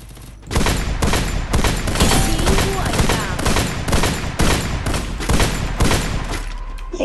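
Rapid, loud bursts of gunfire in Garena Free Fire, a dense sustained volley of repeated shots filling the whole stretch, with no talk.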